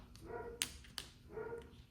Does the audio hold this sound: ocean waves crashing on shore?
no